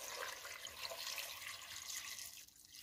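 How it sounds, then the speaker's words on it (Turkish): Water pours steadily into a cooking pot as two litres are added for a simple three-ingredient Ottoman-style fruit sherbet, a continuous close splashing and gushing that tapers off near the end. "suyumuzu ekliyoruz."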